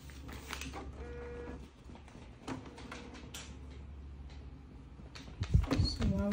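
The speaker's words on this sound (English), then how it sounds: "So while we're waiting for the printer to just set up properly" A Canon TR475/TR7200 inkjet printer starting up after being powered on: intermittent whirring and clicking of internal mechanisms, with a louder mechanical clunk near the end, quiet and close, under a person talking.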